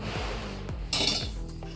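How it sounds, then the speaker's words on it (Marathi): A metal kadhai is set down on a kitchen stove, giving soft clanks and scraping clinks of metal on metal, close and fairly quiet. "आणि कढई ठेवून घेते"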